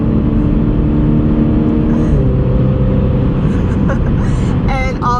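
A 2020 Mini John Cooper Works Countryman All4 being driven, a steady engine drone and road rumble from inside the cabin, with someone talking over it throughout.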